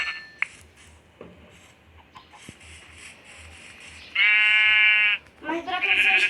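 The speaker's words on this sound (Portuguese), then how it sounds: "Uma ovelha." Sheep bleat in the Minecraft video game, one long sustained bleat followed by a shorter one, loud and near, with faint background game noises and small clicks before them.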